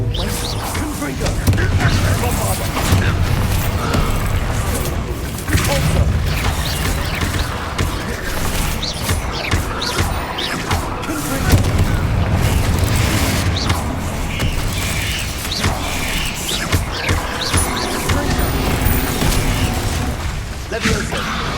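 Confringo explosion spell in a Harry Potter video game, with continuous loud booming, crackling bursts and rumbling effects over several seconds, mixed with game music and a voice talking over it.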